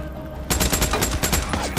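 Rapid bursts of gunfire in the zombie survival video game Days Gone, loud and near, beginning after a brief quieter stretch and continuing without pause.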